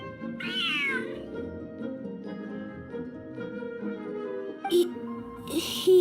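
In the Genshin Impact video game a cat gives a clear, close meow near the start, followed by a quieter stretch of soft in-game ambience with music-like tones and a couple of brief chirping sounds at the end.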